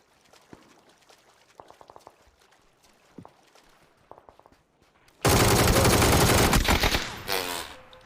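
Video game gunfire bursts out loud at about five seconds, a sustained, harsh automatic volley with heavy recoil that runs nearly three seconds and tails off, after sparse faint clicks and quieter game sounds.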